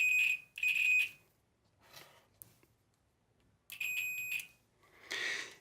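Multimeter on continuity setting beeping as probes touch XLR microphone pins and wires: three sharp, steady electronic tones in bursts, with quiet handling rustle between them.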